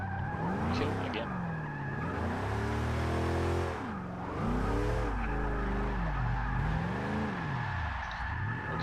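A supercharged, modified GMC Vandura van drifting in Forza 6, its engine revving and falling in sweeping waves while the tires squeal steadily through the slides, loud and close throughout.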